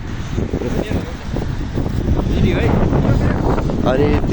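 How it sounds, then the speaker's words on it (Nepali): Cold wind gusts outside an apartment building in Korea on a snowy day, buffeting the microphone with loud, continuous rumbling throughout, while someone talks underneath. "यस्तो हावा पनि चलिरहेको छ एकदम चिसो छ"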